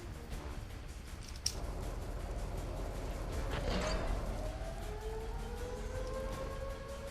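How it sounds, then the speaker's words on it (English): A steady siren wails through the World of Tanks battle, its rising and falling tone sweeping over constant rumbling game noise, with a single sharp crack early on. "There's also a siren, as you noticed."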